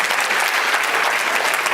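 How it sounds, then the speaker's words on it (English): A packed audience at a Hare Krishna temple's 50th anniversary gathering in Melbourne applauds after a performance, a dense, even wash of many hands clapping, loud and close, lasting the whole stretch without a break. "Another round of applause, please, for Gopa Vrindesh and his wonderful effort."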